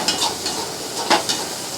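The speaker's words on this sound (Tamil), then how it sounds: "பல்லாரியாக மீன் பொரிச்ச சட்டியிலே போட்டு" Sliced onions sauté in the oil left in a fish-frying pan over a wood-fired stove, giving a steady close sizzle. A few brief scrapes of stirring rise above it, with no voices.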